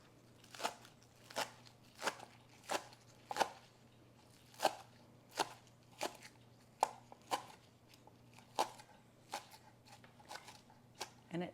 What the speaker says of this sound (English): to chop up some green onions